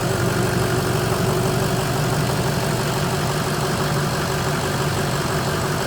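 A 2006 Ford F-250 Lariat Super Duty crew cab truck with an added cold air intake, idling steadily with a low, even rumble and no breaks or revving.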